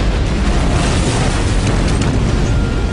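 A massive blast at a large fireworks factory in rural Devon, England, as 18,000 pounds of explosives go off, heard as a sustained, loud, dense rumbling roar that fills the whole stretch without pause.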